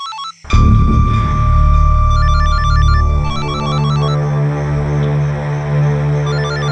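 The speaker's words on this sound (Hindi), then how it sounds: "किसका फोन है?" A phone's ringtone plays loud and close in a Crime Patrol crime drama scene, a steady electronic melody with repeating beeping notes over a sustained tone, continuing without pause and with no talking.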